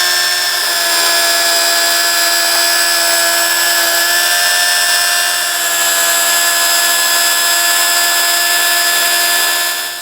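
Rotary polisher with a wool pad buffing water spots off glass, producing a loud, steady high-pitched motor whine with a constant tone throughout, close up and uninterrupted.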